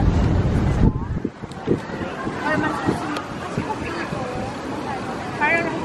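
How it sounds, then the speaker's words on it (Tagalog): Wind rushes and buffets the microphone outdoors, with scattered voices and background chatter under the gusts. "Mahangin naman ah."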